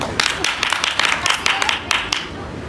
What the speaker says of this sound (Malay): Bagi tepukan